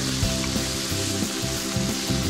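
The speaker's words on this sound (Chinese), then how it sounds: "加入番茄翻炒一下" Onion and tomato stir-fried in a round pot over medium-low heat, a loud continuous sizzle broken by repeated rhythmic scraping strokes of the spatula, close and with no talking.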